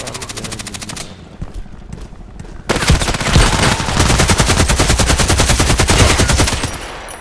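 Rapid automatic gunfire from an enemy's weapon in the shooter game Contract Wars, loud sustained bursts with a short pause before a longer, heavier volley, no talk.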